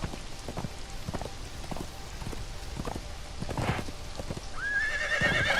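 In the video game Conan Exiles a horse's hooves clop in a steady rhythm over a constant wash of rain, then the horse lets out a clear rising neigh near the end.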